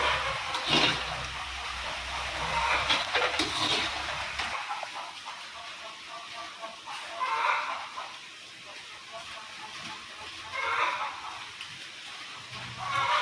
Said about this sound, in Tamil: மழை நல்லா அடித்து ஊற்றுது